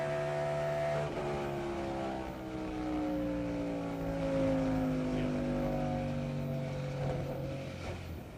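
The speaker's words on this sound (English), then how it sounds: "the sound of a roaring 700 horsepower engine goes silent very quickly" A roaring 700 horsepower NASCAR race car engine during the 1999 Pennzoil 400 makes a steady droning roar that slowly sinks in pitch, heard continuously at moderate loudness from some distance.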